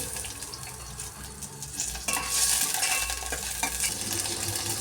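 Garlic and onion frying in oil in a pan, a steady sizzle that swells louder midway with stirring and scraping, close, no speech.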